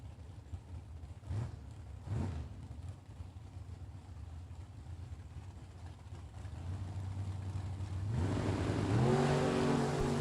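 Drag racing launch between a Roadster and a Beretta at a Super Pro event: a low engine drone builds, then loud, rising revs surge near the end of the clip, with no talk.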